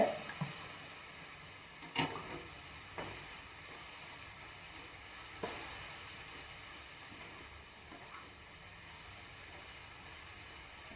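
Carrot thoran being stirred in a Kerala-style pan: a steady soft sizzle and hiss with a few sharp scrapes and clinks of the spoon, close and quiet, no talk.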